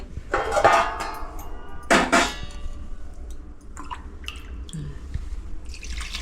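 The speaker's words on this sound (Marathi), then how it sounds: "ताबडतोब आता पाणी पण घालते." Water is poured into a cooking pot of cauliflower, pea and potato curry, two short splashing pours a second or so apart, followed by faint drips and light clinks of utensils, close, with no talking.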